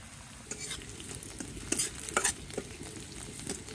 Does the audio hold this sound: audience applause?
no